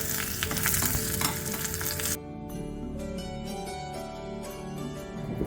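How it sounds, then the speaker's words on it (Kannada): Spices frying in hot oil for a tempering, a loud dense sizzle that drops sharply partway through to a quieter steady crackle, with faint stirring and clinks, no talk. "ಒಗ್ಗರಣೆಗೆ ಮಸಾಲೆಗಳು ಚೆನ್ನಾಗಿ ಫ್ರೈ ಆದರೆ ಮಾತ್ರ ರುಚಿ ಅಲ್ವಾ ಫ್ರೆಂಡ್ಸ್."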